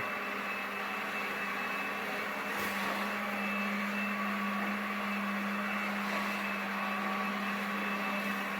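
Ecovacs Deebot Ozmo 920 Wi-Fi robot vacuum running across a dirty bathroom floor, a steady motor whine and brush hum at moderate level, continuous and unchanging, with no talking.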